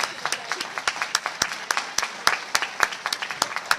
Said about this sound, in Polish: brawa mogą trwać i trwać